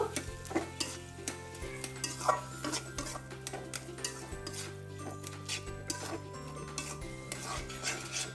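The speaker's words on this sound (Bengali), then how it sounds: "এখন আমি ভালো মতো করে থেমে থেমে চার থেকে পাঁচ মিনিট নাড়াচাড়া দিব" Shrimp with taro flower fries over medium heat in a pan while a spatula stirs it at intervals, producing soft, continuous sizzling broken by repeated scraping and metallic clinks against the pan.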